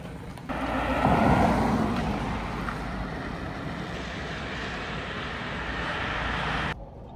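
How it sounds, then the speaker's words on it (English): A Land Rover Defender converted to electric drive is out on a test drive, giving a steady rumbling road and wind noise from inside the moving vehicle, loud and continuous for several seconds before cutting off abruptly. "I guess a test drive is on the cards."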